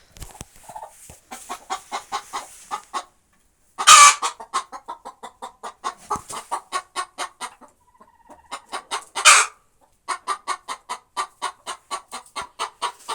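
Farmyard hens clucking in steady rhythmic bursts, with two sharper, louder squawks standing out; close and clear, no talking.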